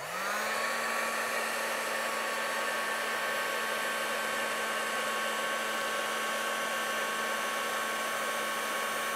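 Heat gun melting embossing powder on a craft card, a steady close whirring blower with a constant high tonal whine, running evenly throughout without speech.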